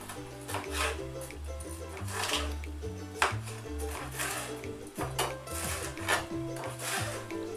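A knife slices a vegetable into strips on a cutting board for a summer chickpea salad, a steady series of close, crisp chops and board taps repeating at an uneven rhythm.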